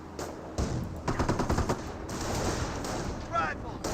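Rapid bursts of video-game gunfire from Panzer Grenadier squads in Company of Heroes, dense crackling volleys repeating through the clip with a voice commentating over them.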